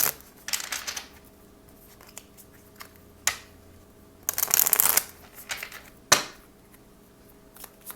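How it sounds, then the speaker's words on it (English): Oracle cards being shuffled for a pick-a-card reading: several brisk riffling bursts, close and fairly loud, separated by quieter handling rustles and a few sharp taps, with no speech. "let's go ahead and get one more oracle card for you here"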